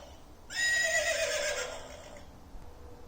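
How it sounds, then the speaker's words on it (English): A horse neighing from an Eric Carle farm animals button sound book: a single bright whinny lasting over a second, close and clear, fading into quiet afterward. "The horse gallops in the field."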